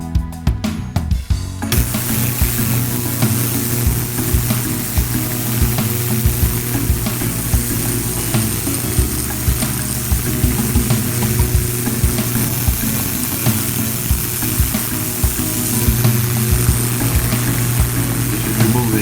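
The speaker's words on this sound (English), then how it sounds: "now we're going to use the ultrasonic cleaner to clean up these parts" An ultrasonic cleaner runs while cleaning Chinese scooter parts, a steady loud hum and hiss with a buzzing tone that starts after a brief click and continues evenly with no talking.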